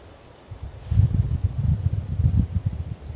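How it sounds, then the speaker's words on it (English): Wind gusting outdoors in a mountain setting, a low rumbling buffet that rises suddenly after half a second and keeps surging unevenly, close and fairly loud against the microphone. "Oh, that wind is picking up, hey?"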